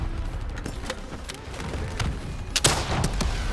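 Gunfire in the Call of Duty: Black Ops III video game, a sustained, loud battle barrage of rapid overlapping shots with heavier bursts near the end, no voices heard.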